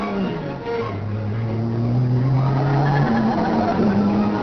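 Race cars on the mountain circuit of the 1955 Targa Florio: engines whine and shift pitch as cars pass, a continuous slightly muffled roar of several vehicles with no speech.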